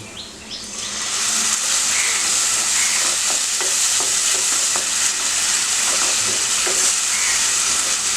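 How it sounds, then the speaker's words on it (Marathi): Tomato puree sizzles loudly in a pan with sautéed golden onion and garlic. A dense, continuous hiss is broken by soft stirring scrapes, up close, and nobody speaks. "टोमॅटो, कांदा, लसूणचा कच्चापणा जाईपर्यंत आपण चांगलं हे परतून घेणार आहोत।"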